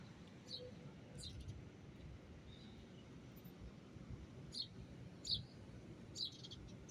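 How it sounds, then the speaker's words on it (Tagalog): Faint, scattered bird chirps from a frangipani tree sound at intervals over a low, steady outdoor rumble, a few short tweets spaced a second or so apart. "Dinadapuan ng mga ibon."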